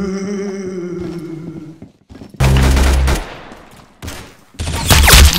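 Video game gunfire in a weapon montage: tonal in-game sound gives way to loud, dense bursts of rapid shots, a pause, then another heavy burst, all up close with no voices.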